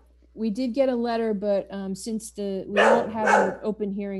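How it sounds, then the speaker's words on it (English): Dog barking in the background of a town conservation commission meeting, several sharp barks breaking through and overlapping a man's ongoing speech. "I apologize for the dog."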